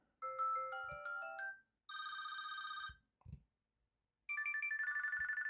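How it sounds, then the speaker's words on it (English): Three short electronic ringtone melodies play in turn on a Samsung Galaxy Watch 7 with pauses between them, bright synthetic tones, with faint taps in the gaps. "different ringtones you can do on here"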